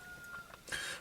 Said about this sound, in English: If you guys hear a rooster in the background, it's because it's pretty early morning.